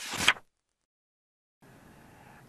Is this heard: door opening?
yes